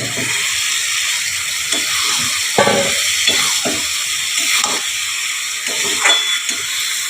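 Potatoes frying in hot oil with garam masala for aloo dum, a steady loud sizzle and hiss running throughout with occasional stirring scrapes, no talking.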